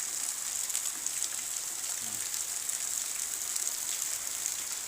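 Heavy rain pours steadily beside a house during the rainy season, a dense, constant hiss of falling water that fills the whole clip with no pauses or voices.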